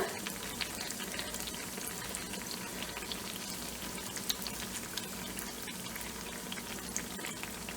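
Muttappathiri batter fries steadily in hot oil in a pan, a dense, continuous sizzle and crackle that holds at an even level throughout with no voices over it.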